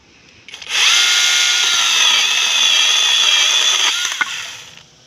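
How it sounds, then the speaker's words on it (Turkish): Haktaş SC-5805 cordless pruning saw buzzing steadily through a dry oak branch, a loud continuous whine that starts abruptly, holds for about three seconds and winds down. "Bugün Haktaş'ın budama testeresini deniyoruz."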